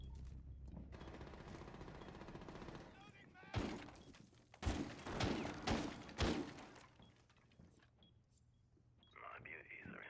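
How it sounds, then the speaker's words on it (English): Gunfire in an Xbox shooting game, bursts of rapid shots and heavy impacts clustered in the middle over mechanical game noise, with a voice talking at the start and end. "They're shooting the floor in here."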